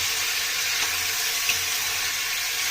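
Tap water runs steadily over fenugreek leaves being washed in a kitchen sink, a continuous close hiss of flowing water with faint splashes and no talk.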